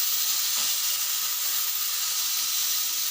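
A steady, loud hiss of steam venting under pressure from a pressure cooker's whistle being opened after cooking beef pulao stock, continuous and unbroken throughout.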